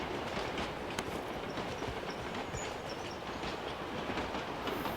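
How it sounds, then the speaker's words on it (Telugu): A train rolls past in the mobile battle-royale game BGMI, a dense, steady rumble of rail noise that holds at a constant, fairly close level for the whole stretch with no talk over it. "ట్రైన్ ఇది"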